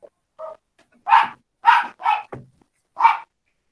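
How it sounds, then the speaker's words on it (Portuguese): A small dog barks five times in short, sharp, close bursts, unevenly spaced, with a few faint yips before them and silence between. "O cachorrinho respondendo."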